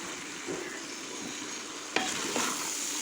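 A masala with tomatoes sizzles steadily in a kadhai, and a spoon scrapes through it now and then as it is stirred and roasted. The sound is close and has no talk over it.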